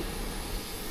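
A Lion Air passenger jet on a Surabaya to Bali route gives off a steady, even engine roar that fills the whole moment with a continuous broad whoosh and no speech.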